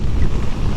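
Strong wind buffets the microphone during a motorcycle ride on a road near Sundarijal in Nepal, a loud steady low roar with no talk.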